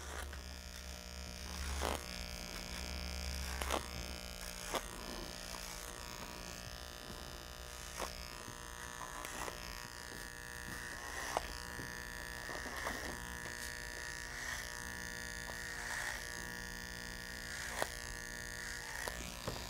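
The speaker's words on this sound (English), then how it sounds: "We've got a clear line of where we're gonna take hair off on the top of the head." An electric shaver runs steadily while taking hair off the top of a head during a non-surgical hair replacement fitting, giving a faint, continuous buzz with small rhythmic clicks as it passes over the scalp.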